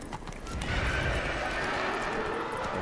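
Horse hooves clopping with a neigh in the video game The Witcher 3: Wild Hunt, a steady galloping rhythm under dense ambient game sound, fairly loud and continuous.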